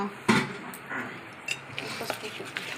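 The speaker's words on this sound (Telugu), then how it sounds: "పిండిని ఇలా ఒకటే డైరెక్షన్లో ఒక 2 మినిట్స్ బాగా ఇలా స్పూన్తో" A spoon stirs thick urad dal batter in a bowl, producing a knock followed by soft scraping and light clinks in an uneven rhythm, close up and fairly quiet.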